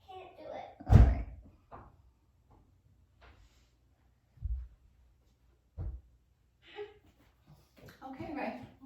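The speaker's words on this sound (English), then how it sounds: "press your whole body into it while you push the door" A door pushed with the whole body while its handle is turned, producing a few dull thuds and knocks spread over several seconds, with people talking in between.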